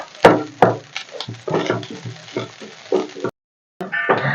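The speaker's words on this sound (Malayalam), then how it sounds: "ഇത് താമസമുള്ള പരിപാടിയാണ് തേങ്ങ വറക്കുക എന്ന് പറയുന്നത്" Grated coconut roasting in a pan for prawn theeyal, with close, soft sizzling and scraping stir strokes in uneven bursts, then a brief pause before stirring resumes.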